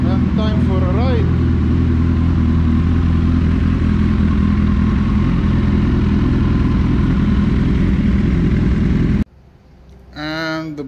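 A first-generation Suzuki Hayabusa after a radiator and double-fan upgrade, its engine running loud and steady at close range with some clatter before cutting off near the end, followed by someone talking.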